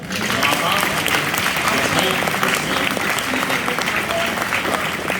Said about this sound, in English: Y'all better clap for that.